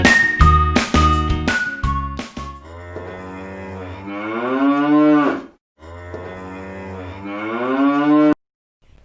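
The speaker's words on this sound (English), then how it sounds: "Cow, cow." A cow moos loudly and up close in two long, drawn-out calls, opening with a few bright jingling bell-like notes.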